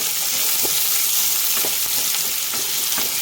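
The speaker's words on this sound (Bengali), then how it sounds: "পেঁয়াজটা ভালো করে লাল লাল করে অনেকক্ষণ ভেজে নিতে হবে।" Onions fry in hot oil with a loud, continuous hiss and sizzle, punctuated by occasional soft stirring scrapes, with no voices.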